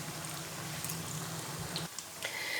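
Potato laccha pakoras frying in a pan of oil over low heat, a steady close hiss and crackle with faint bubbling that dips briefly near the end.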